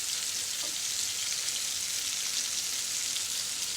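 Onions fry in a pan as they turn brown, giving a steady, dense sizzle that holds evenly at close range for the whole stretch, with no voices over it.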